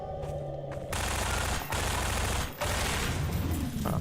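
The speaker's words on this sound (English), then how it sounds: "wasting all my SMG bullets" Bursts of SMG fire in the video game Half-Life 2 come loud and close. Sustained rapid shots run in two or three stretches split by brief gaps, and no one speaks.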